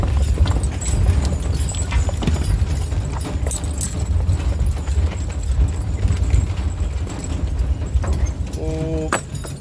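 Horses' hooves clip-clop steadily on a road at a walking pace, close and clear, under a low rumble of wheels and outdoor noise.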